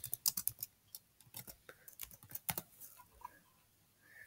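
Typing on a Chromebook keyboard: a quick, uneven run of close, crisp key taps that thins into a few scattered presses and then stops, with no voices.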